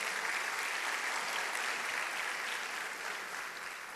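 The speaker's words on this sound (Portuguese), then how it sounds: "uma salva de palmas a Jesus." A congregation or class audience claps for Jesus in a steady, even wash of applause, fairly quiet and distant, gradually tapering slightly toward the end with no voices over it.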